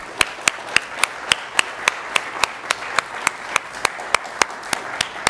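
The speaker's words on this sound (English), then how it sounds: "let's give a huge round of applause to the volunteers and organizers of this conference" A conference audience claps for the volunteers and organizers: sharp, evenly spaced claps in a steady rhythm throughout, fairly loud and close, with no voices.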